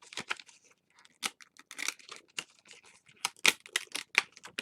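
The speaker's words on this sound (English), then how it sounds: "bear with me while I get the rest of this plastic off of here" Plastic backing peeled gently off a clear stamp: a close, irregular run of crackly tearing and crinkling bursts with brief pauses between pulls.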